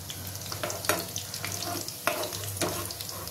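Homemade chicken bites frying in a pan: a quiet, steady sizzle and crackle with a few sharper pops and clicks, close by and without speech.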